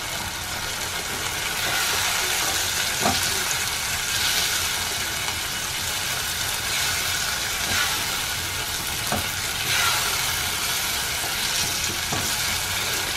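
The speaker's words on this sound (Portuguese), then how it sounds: "junto pra fritar aqui, eu vou colocar o bacon" Bacon fries with a steady, close sizzle in a new pan, a dense crackling hiss that holds throughout, with a few soft stirring scrapes and no talking.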